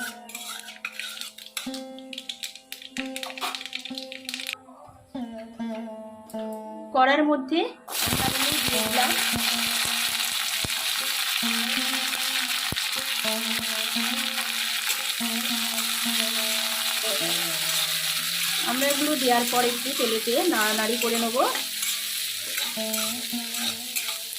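Black mustard seeds and half a dried red chili frying in hot oil in a pan, with a steady bright sizzle that runs for most of the stretch, a spoon stirring now and then, and a voice talking over the cooking.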